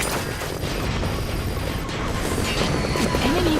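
A support helicopter in the stealth action game Metal Gear Solid V: The Phantom Pain, its rotor beating as a loud, steady churn that continues throughout, with mechanical rattles and a brief whistling tone near the end.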